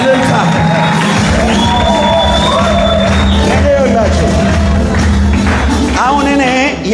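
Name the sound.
congregation ululating in praise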